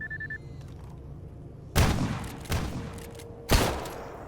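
Gunfire in the survival shooter S.T.A.L.K.E.R. GAMMA: three loud, sharp shots spaced about a second apart, each with a booming decay, after a quiet ambient stretch.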